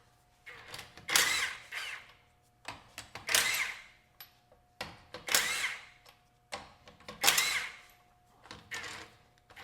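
Suspension bolts on a Lamborghini Huracan are loosened with a power tool, which gives four rhythmic rattling bursts that rise and fall at a moderate distance over a faint steady hum.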